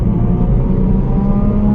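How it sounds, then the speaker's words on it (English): Range Rover Sport engine pulling under throttle on a main road, a loud, steady low drone heard from inside the cabin with no break across the short stretch. "you can just hear the engine so loud in the background"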